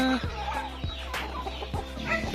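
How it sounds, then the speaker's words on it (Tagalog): Several chickens cluck close by in short, repeated bursts, with a steady low background hum underneath. "si Brownie si Dappled tapos yan si Tisoy yung mga manok natin"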